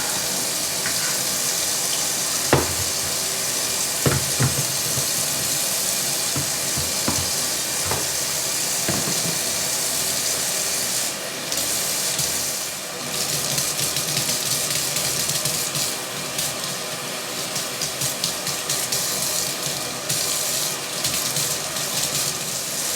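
A vintage 1961 Mattel Sister Belle doll's hair is shampooed with Dawn dish soap under a running tap, a constant close rush of water with occasional clicks and splashes and no talking.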